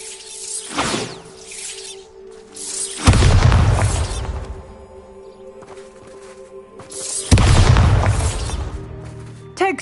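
Two heavy booming blasts of the Bombarda spell in the video game Hogwarts Legacy, each a deep explosive burst with shattering debris, separated by a quieter stretch with faint background music.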